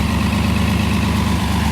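A car engine idles steadily up close, a loud, even low rumble with a rapid regular pulse; no distinct hiccup stands out in this short stretch.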